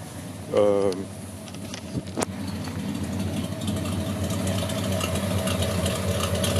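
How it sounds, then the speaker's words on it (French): A 1977 Ford F250 Camper Special with a 3.5-inch exhaust idles smoothly in cold, damp weather, a steady low engine rumble running throughout, with a brief voice early on. "on voit un moteur doux, régulier. Un bon régime."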